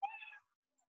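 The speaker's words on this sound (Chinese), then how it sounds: "小于500它就会叮叮叮，大于500它就会喵喵喵。" A cat meow sound effect, triggered by a Scratch program when a sensor reading goes above 500, plays as one short, clear meow on its own, then silence.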